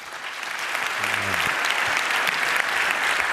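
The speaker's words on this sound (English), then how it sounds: "Give him a warm round of applause" Warm audience applause at a Chaos Communication Congress talk, clapping that swells in and holds as a dense, steady wash, with a brief voice heard beneath it.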